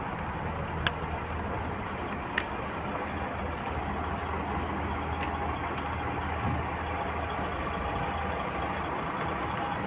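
Trucks at a truck parking area, a steady low engine rumble with distant idling and traffic hum throughout, faint and continuous with a few brief clicks.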